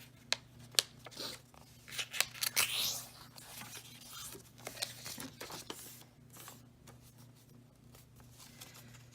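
Scissors cut along lines in a folded sheet of paper, making a quiet, close series of irregular snips, rustles and crinkles against a faint steady hum.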